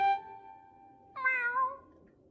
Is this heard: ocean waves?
no